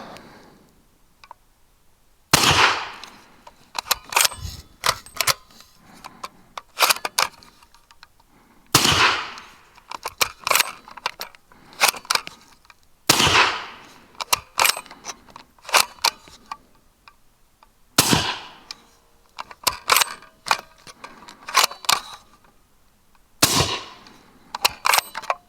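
Six shots from an 8.6 Blackout rifle fitted with a .45-caliber front cap, three supersonic and three subsonic, ring out as loud sharp cracks spaced several seconds apart, each trailed by echoes and mechanical clicks of cycling.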